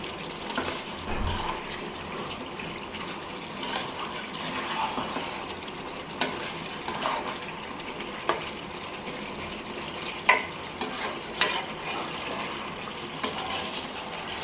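Roast simmering in a pan while being stirred, a soft continuous sizzle with scattered scraping and clinking stir sounds at a moderate distance, no talking.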